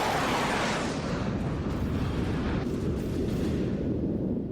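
Deep, continuous rumbling roar from explosions after Russian missile strikes in Ukraine, dense and sustained throughout, with no separate distinct blasts and no voices.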